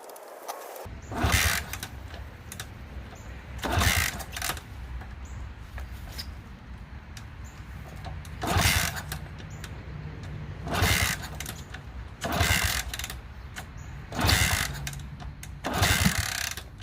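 A Honda C200 motorcycle is cranked repeatedly, with bursts of the starter spinning the engine roughly every two to three seconds over a low idle-like hum, never quite catching.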